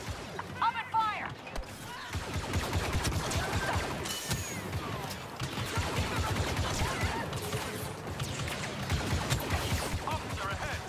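Rapid blaster gunfire rattles through a Star Wars Battlefront II campaign battle, dense overlapping shots and impacts continuing steadily and loudly, with voices mixed into the combat.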